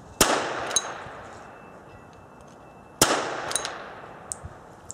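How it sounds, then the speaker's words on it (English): A Perfecta DFP starter pistol from Germany fires two sharp, loud blank shots about three seconds apart, each a sudden crack with a short ringing tail, followed by small clinks of ejected casings. "here we are with the Perfecta starter pistol"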